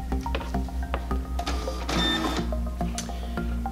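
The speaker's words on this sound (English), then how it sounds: "And there it goes, it printed." A Zebra ZD620 label printer feeds out a barcode label with a rhythmic series of clicks and ticks over a low steady motor hum, then a brief whirring burst midway, close and alone.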